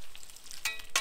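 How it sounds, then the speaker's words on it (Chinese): Seasonings frying in hot oil in a wok, soft brief crackles and pops over a faint hiss, quiet and short. "锅里留底油，放入准备好的佐料，把佐料呢炸黄炸香"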